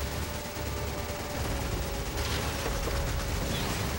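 Gunfire in the Resident Evil 5 video game, a continuous dense rattle of shots mixed with a steady low rumble throughout.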